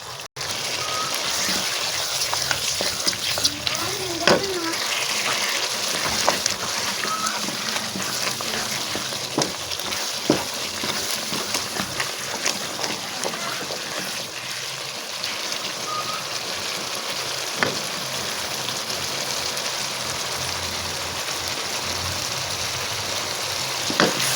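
Tomatoes and masala spices for a mutton curry frying in a kadhai, a steady broad hiss and sizzle lasting throughout, with occasional faint clinks and pops and no speech.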